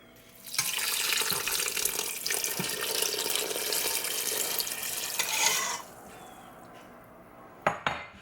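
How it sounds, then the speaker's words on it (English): Water pours steadily from a tap into a cooking pot of bouillon for butternut squash soup, a loud continuous splashing rush that cuts off sharply, followed by a quieter pause and two brief clinks of pot or utensil. "And now I'm just going to throw in the water"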